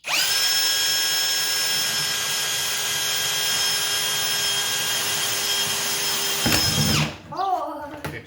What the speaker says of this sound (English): ready to drill a hole?